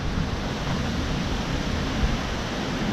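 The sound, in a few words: severe wind storm gust, possible microburst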